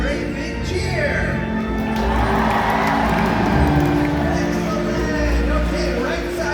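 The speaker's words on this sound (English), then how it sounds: "When you see her, give her a great big cheer." A stadium crowd at SeaWorld Orlando cheers and whoops for a killer whale's bow, a broad sustained roar of many voices with shouts and children's cries, steady and loud across the whole stretch.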